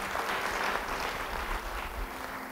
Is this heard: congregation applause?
yes